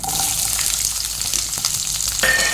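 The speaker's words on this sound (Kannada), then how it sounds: "ಒಂದು ಸ್ವಲ್ಪ ಫ್ರೈ ಮಾಡಬೇಕು ನೀರುಳ್ಳಿ ಸ್ವಲ್ಪ ಫ್ರೈ ಮಾಡುವ" Sliced onions fry with mustard seeds in a hot pan for a fish sukka, giving a loud, continuous close-up sizzle with occasional stirring scrapes and crackles.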